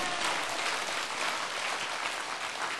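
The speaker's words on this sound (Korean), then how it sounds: "우리 하나님께 영광의 박수" A church congregation applauding in worship, a continuous dense wash of clapping from a large crowd, steady and even with no distinct individual claps standing out.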